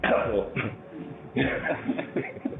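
A single sharp, faked cough bursts out amid ongoing muffled talking, followed by a few breathy chuckle-like sounds; close and fairly loud.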